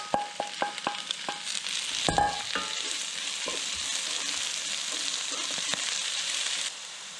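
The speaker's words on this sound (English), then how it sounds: "I'm going to add the spinach, just so it wilts." Spinach dropped into a hot pan with garlic for pasta. A few sharp utensil clicks give way to a loud burst as the leaves go in, then a steady close sizzle as they wilt, with no voices.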